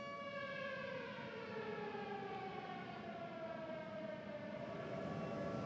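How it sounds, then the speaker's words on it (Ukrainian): Air raid siren wailing during a missile alert in a Kyiv subway station, a steady rising and falling tone that holds loud and continuous throughout, with no voices over it. "Yes, I can hear the siren."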